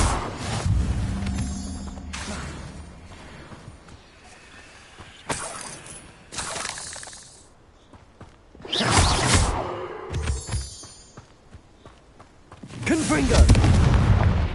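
Fiery blasting-spell explosions from Hogwarts Legacy gameplay, several heavy booms with whooshing bursts spaced irregularly across the span, the loudest and deepest near the end, with quieter stretches of ambient game noise between them.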